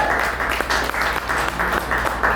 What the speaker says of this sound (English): All the way from Queens, ladies and gentlemen, give them a round of applause.